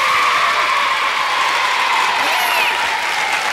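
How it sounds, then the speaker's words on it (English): Sustained applause from a television studio audience, a dense steady wash of many hands clapping at full volume with no break for the whole stretch. "give them a great big round of applause"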